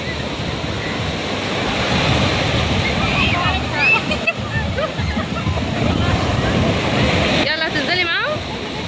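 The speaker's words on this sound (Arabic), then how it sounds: "البحر يا جماعة تحفة" Sea waves breaking on a beach roar steadily and loudly, with wind buffeting the microphone and faint voices mixed into the surf.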